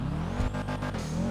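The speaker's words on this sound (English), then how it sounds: "I think a Sultan RS sound is probably the one to go for." A turbo minivan in a video game, fitted with a Sultan RS engine sound, revs hard and continuously, loud and close, with rhythmic pulses as the revs rise and fall.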